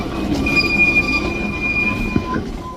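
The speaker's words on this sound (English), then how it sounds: "I think we're being interrupted by a train down there." A train runs along the railway track below the speakers, a loud, near grinding rumble with high wheel squeals ringing steadily throughout, no voices.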